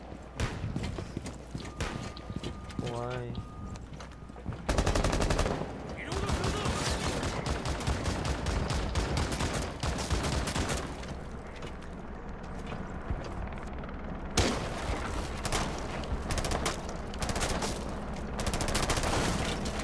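Rapid bursts of gunfire from a shooting video game ring out loudly throughout, dense and rattling over steady game noise, with a voice talking briefly.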